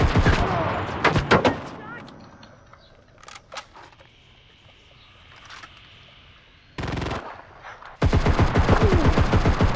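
Guns fire in the video game Cuisine Royale in bursts of rapid, loud, close shots, with quieter pauses between bursts and a dense volley at the end.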